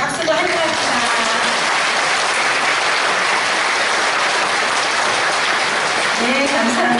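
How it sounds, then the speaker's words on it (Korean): A church-event audience at an Incheon police Christian mission praise contest claps to welcome a pastor guest, a loud, dense wash of applause that stays even throughout, with someone speaking briefly over it at the start and end. "박수로 환영합니다"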